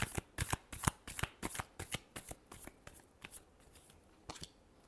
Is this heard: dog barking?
no